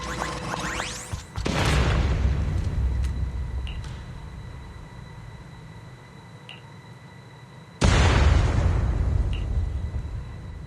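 Explosions in a story-driven video game, two heavy booming blasts, the first early and the second later and louder, each decaying into a long rumbling tail.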